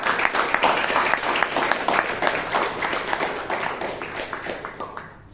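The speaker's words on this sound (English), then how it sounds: "Just give a big round of applause" A Toastmasters meeting audience in Bangalore breaks into a big round of applause, dense continuous clapping from many hands that holds steady for several seconds before tapering off at the end.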